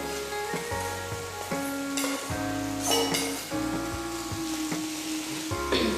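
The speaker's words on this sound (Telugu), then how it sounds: "ఇప్పుడు మనం రెడ్ చిల్లీ పౌడర్ కలిపి పెట్టుకున్నటువంటి ఈ అన్నాన్ని ఇందులో వేసి కలుపుకోవాలి." Rice coated with red chili powder is tossed in a hot pan for Indian red chili rice, giving steady sizzling with repeated scraping and clinks of a spoon against the metal, close and fairly loud.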